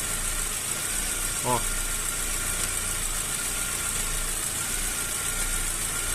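Chevrolet Cobalt 1.8 engine idling with a steady, slightly uneven running hum close by, and a brief spoken word over it.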